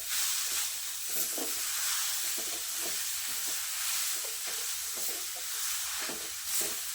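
Grated coconut roasting on high flame in a pan, a steady hissing sizzle broken by repeated rhythmic scrapes of a spatula stirring it, close and even, no voices.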